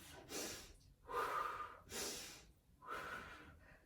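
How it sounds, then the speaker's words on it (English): Slow, deliberate breaths during a Pilates leg exercise: air drawn in through the nose and pushed out through the mouth, three or four long breathy cycles close to the microphone with no talking. "lots of breath in through the nose, out through the mouth"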